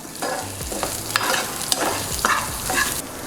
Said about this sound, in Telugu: జీలకర్ర, ఆవాలు, మినప్పప్పు కొంచెం వేసుకుందాము. వేసుకొని ఒకసారి కలబెట్టుకుందాము.